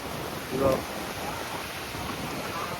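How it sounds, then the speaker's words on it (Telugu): Steady rushing roar of surf close by at a beach in Goa, broad and constant, with a brief voice near the start. "అలలు అయితే క్రేజీ ఉన్నాయి"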